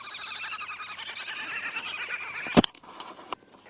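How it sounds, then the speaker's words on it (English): A dense flock of birds chatters and chirps continuously, then a sharp close bang cuts in and the calling drops to scattered faint chirps. "That noise was those birds over there."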